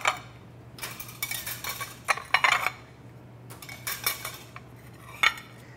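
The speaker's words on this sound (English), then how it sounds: "So plates I will go ahead and put into my dish rack kit" Metal plates clatter and clink as they are set one after another into the dish rack basket of an ultrasonic cleaner, in bursts of sharp close knocks with quiet gaps between.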